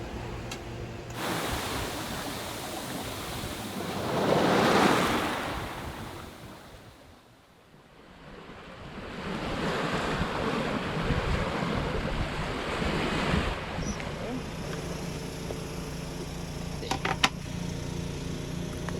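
Ocean waves and wind on a sailboat far offshore in the Pacific on a mellow sea, a steady broad rush that swells, dips and returns, with wind buffeting the microphone and no talk.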